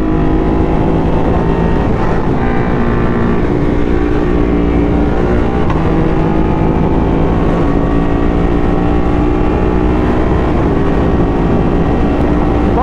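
A Ducati Hypermotard motorcycle fitted with a Termignoni exhaust runs loud and close, its engine note rising and falling in steady revs over several seconds, with no talking.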